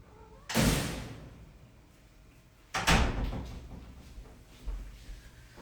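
Metal screen door opening and closing as a cat is let in from outside, two loud broadband clattering bursts a couple of seconds apart followed by a softer knock, close by with quiet room tone between.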